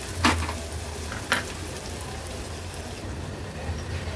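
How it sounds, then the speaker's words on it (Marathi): Chopped onion cooking gently with ginger-garlic paste over a low gas flame gives a soft, steady frying hiss, with a couple of brief stirring scrapes near the start and middle, and no voices. "गॅसची फ्लेम लो ठेवून आपल्याला हा कांदा शिजवून घ्यायचा आहे"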